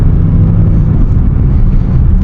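A Maserati Ghibli with its original exhaust gives a deep, loud, steady engine rumble, close and constant over a couple of seconds, with no talking.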